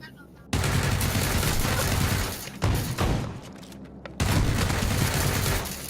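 Gunfire from the battle royale game PUBG comes as dense, loud sustained bursts of rapid shots with brief pauses between volleys.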